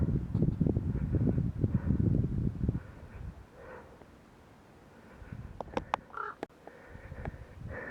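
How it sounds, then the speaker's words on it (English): On a Scottish mountain ridge, a crow gives a few sharp caws partway through, set against gusty wind and low rumble, with no talking. "There's a crow there."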